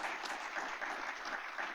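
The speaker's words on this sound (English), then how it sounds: "panelists, let's give them a round of applause for their insights" Steady applause from a seated audience rewards the panelists at a university and industry partnership discussion, a soft, even wash of clapping that holds at one level throughout without voices.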